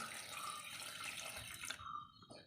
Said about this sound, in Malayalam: വേവാനുള്ള വെള്ളം ഒഴിച്ചു കൊടുക്കാം.